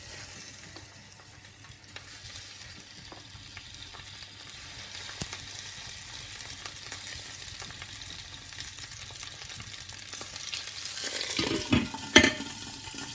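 Merguez sausages laid into a pan with olive oil give a steady low sizzle, with a louder burst of crackling and spattering toward the end.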